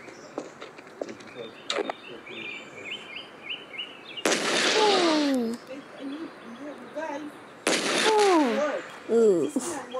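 Gunfire in a zombie-fighting video game comes as two loud sustained bursts, each about a second long, amid game effects and squealing creature sounds, with speech in between.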